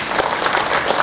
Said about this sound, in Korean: 여러분 이렇게 대우농업을 도와주시려고 농민 사랑하는 마음으로 기계화를 위해서 열심히 소원해주신 여러분께 뜨거운 박수 한번 보내주시죠.